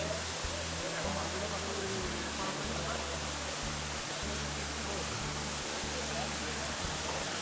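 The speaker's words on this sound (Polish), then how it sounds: "bo słychać szum spadającej wody" Steady broadband rushing of falling water fills the background, even and unbroken, like a waterfall some distance away in a gorge on Gran Canaria, with faint low rumbling underneath.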